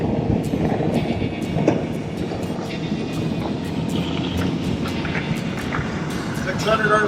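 A boat engine revs steadily while setting an 85 lb Mantus anchor on 100 ft of chain, its low continuous drone loud and constant under occasional voices.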